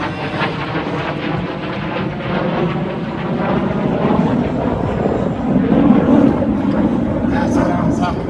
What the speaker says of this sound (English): Air Force F-16s flying overhead.